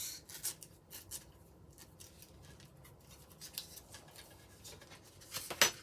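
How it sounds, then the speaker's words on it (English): Scissors trim a piece of paper while an altered box is being made. Several crisp snips come in quick bursts, close and clear, with no talking. "I'm going to take that piece and I'm going to trim that off just to get rid of some of the bulk"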